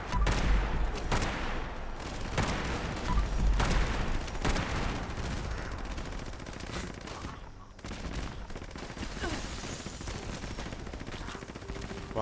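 A hostile fisherman fires at the player in a video game, with heavy sustained bursts of gunfire and booming low thuds throughout, loud and close, easing somewhat in the later seconds.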